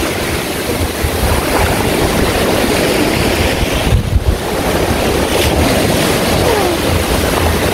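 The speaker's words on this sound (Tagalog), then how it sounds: "Biglang lumakas yung alon." Loud, constant roar of strong ocean waves crashing on a beach, surf and rushing water, with heavy wind buffeting the microphone throughout and no clear voices.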